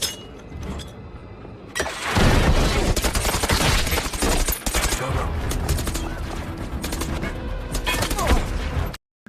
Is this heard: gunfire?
yes